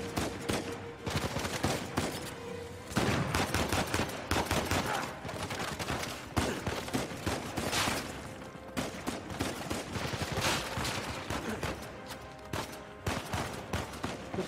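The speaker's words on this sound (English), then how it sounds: "Stop shooting me!" Gunfire in the video game Uncharted 4, a dense, sustained fusillade of rapid shots and bursts continuing for the whole stretch, loud and close, with no speech over it.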